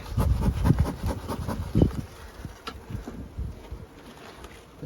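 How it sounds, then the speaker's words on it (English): Honey bees buzz steadily inside an overwintered nuc hive, a close, dense hum that is louder at first and then eases to a softer drone. "Plenty of bees in there."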